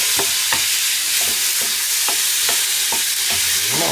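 Chopped onions fry over low heat in a pan with a constant soft sizzle, while a utensil stirs them in regular scraping clicks about twice a second.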